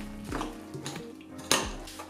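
A spoon clinks and scrapes against a bowl a few times as grated potato, squid and eggs are mixed for potato pancakes, close and fairly quiet.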